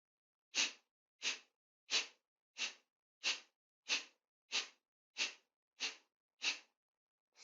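Kapalbhati breathing, a series of eleven sharp, forceful nasal exhalations at an even pace of roughly one every two-thirds of a second, close and distinct with silence between each puff and no talking.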